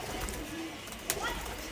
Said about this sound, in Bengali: দেখুন আর এক জোড়া আমার ইম্পোর্ট করা পিলাঙ্কা কবুতর